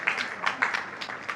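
Scattered clapping from a small audience at a church gospel dinner gathering, a brief patter of a few hands with uneven bursts, fairly close and moderately soft.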